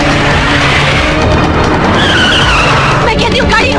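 A car's tires skid loudly and continuously as it brakes hard to a stop, a harsh, close screech that fills the whole moment.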